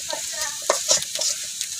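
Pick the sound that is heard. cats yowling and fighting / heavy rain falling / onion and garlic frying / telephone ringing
onion and garlic frying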